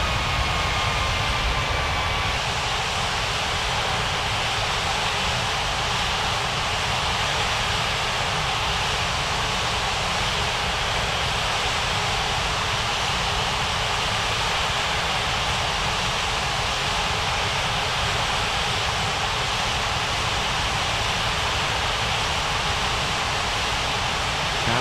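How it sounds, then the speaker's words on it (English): A China Eastern airliner takes off in a mobile flight game, its jet engines producing an unbroken, loud, even roar that holds steady throughout with no voices. "China Eastern 4703, cleared for takeoff runway 35 right."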